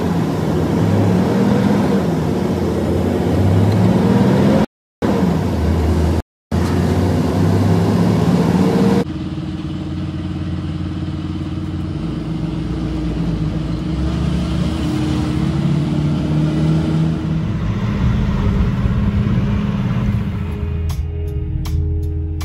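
A Chevy truck drives along with a steady, loud engine and road rumble heard from inside, broken by two brief dropouts, with the tone shifting midway as it keeps cruising.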